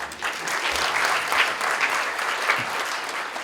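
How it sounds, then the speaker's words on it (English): Steady applause from an audience at a moot court competition valedictory ceremony, held for a justice. Dense, continuous clapping that stays loud throughout with no talking. "May we have a huge round of applause."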